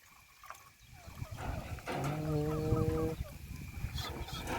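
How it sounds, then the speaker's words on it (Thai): Chickens at a rural home in Thailand cluck and squawk with a few loud, drawn-out calls against an outdoor background. "ไล่ไก่เมื่อกี้"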